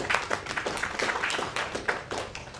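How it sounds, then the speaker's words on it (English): Applause at a cybersecurity conference greets a panelist coming on stage, a sparse, uneven patter of hand claps from a modest audience, fairly close and moderately loud. "Can we please welcome with a big round of applause"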